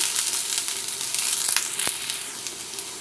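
Brinjal pieces frying in a pan give off a steady, close hiss of sizzling, with a few sharp crackles and pops breaking through the constant oil noise; nobody speaks.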